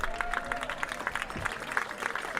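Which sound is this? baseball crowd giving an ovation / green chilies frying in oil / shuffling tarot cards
baseball crowd giving an ovation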